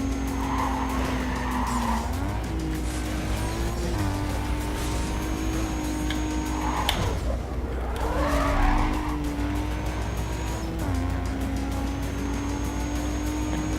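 Race car tires skidding and squealing in the Need for Speed Carbon video game, loud continuous engine roar with repeated screeching slides rising and falling across the whole stretch; no talk.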